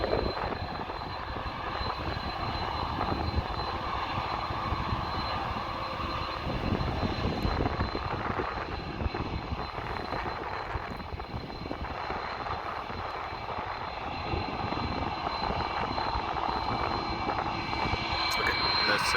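An airliner at Amsterdam Airport, near the Aalsmeerbaan runway 18L, roars steadily through a long take-off, its broadband jet rumble loud and sustained throughout; a voice talks faintly beneath it.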